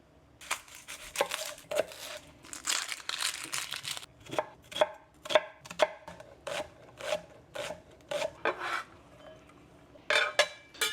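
Garlic chopped with a knife on a cutting board while making pancit palabok, a string of sharp, close knife taps in uneven bursts with short pauses between, heard alone without talk.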